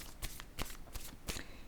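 Decks of oracle cards are handled and shuffled with a handful of sharp, crisp riffles and flicks at close range, set against a soft background hiss.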